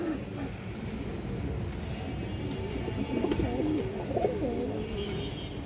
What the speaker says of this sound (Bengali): এই যে পেয়ারটা দেখেন দর্শক, পিছনটা নর কবুতর দর্শক, এই সামনেটা মাদি কবুতরটা